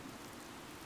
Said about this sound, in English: Oddly, the rain has come to fall yet again.